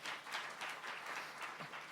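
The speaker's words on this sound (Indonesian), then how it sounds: "Tepuk tangan dong buat Indonesia" Faint applause from a church congregation during a sermon, a steady patter of many hands clapping together, heard at a distance.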